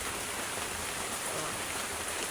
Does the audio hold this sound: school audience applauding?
no